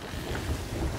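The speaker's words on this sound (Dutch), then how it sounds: "Midden in de storm." Stormy wind roars over high waves at sea from a sailing ship in Sea of Thieves, a dense, steady rush of wind and water with no clear breaks.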